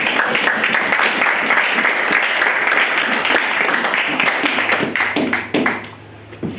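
A church congregation bursts into sustained applause during a service, a dense, even wash of clapping from many hands that tapers off near the end, with some voices mixed in.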